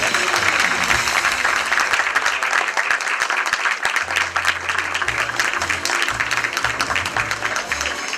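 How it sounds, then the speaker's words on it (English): An awards ceremony crowd applauds the winning bank team with a loud, continuous roar of clapping, while a low musical fanfare plays underneath. "Come on, a huge round of applause, ladies and gentlemen."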